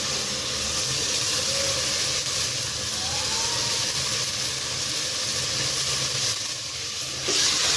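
Green chili and tomato hit a pan of frying keema with aloo, giving a loud, dense, continuous sizzle and hiss that stays close and steady throughout, swelling slightly near the end.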